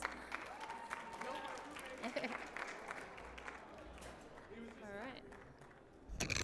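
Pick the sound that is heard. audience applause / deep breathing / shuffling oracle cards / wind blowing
audience applause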